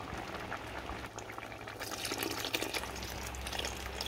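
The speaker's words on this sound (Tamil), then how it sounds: "இப்போ நம்ம புளி கரைச்சி ஊற்ற போகிறோம்." Tamarind water poured into a pot of boiling drumstick sambar, a soft steady bubbling and simmer that grows into a brighter, busier liquid splashing and sizzle partway through.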